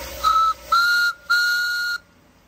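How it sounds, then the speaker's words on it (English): Three steady whistle blasts from a 3.5-inch gauge model GWR Bulldog steam locomotive, each about half a second to a second long with short gaps, the last one held longest, clear and close with no talking. "It also has a whistle, which Finn"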